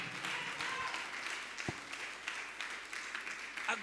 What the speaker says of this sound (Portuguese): Pode aplaudir ao Senhor Jesus.